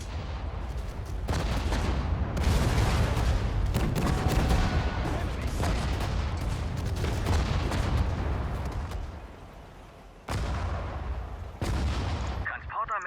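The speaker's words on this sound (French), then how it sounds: "Artillerie! Feuer!" Artillery barrages and gunfire in the Sudden Strike 4 battle game, with booms and crackling volleys rolling almost continuously, loud and dense, broken by a brief lull near the end.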